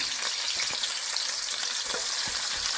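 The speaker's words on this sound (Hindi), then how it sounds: "ऑयल गर्म हो गया। इसमें हमने प्याज ऐड करना है।" Chopped onion fries in hot oil in a pan for a vegetable pulao, making a steady, loud, close hiss and crackle with small pops and occasional stirring.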